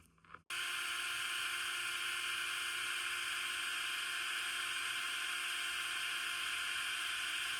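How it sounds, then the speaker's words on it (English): A drill boring holes through a lamp canopy for a lamp built from a twisted manzanita log, starting after a brief pause and then running as one loud, steady high-pitched whine that holds unchanged to the end. "So we got holes drilled on our lamp canopy now."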